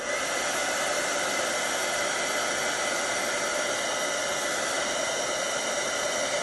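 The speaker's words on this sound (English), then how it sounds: "I'm gonna go ahead and heat up my heat gun" A heat gun warming up for card-making, a constant, loud, even blowing whir that holds steady from start to finish with no talk.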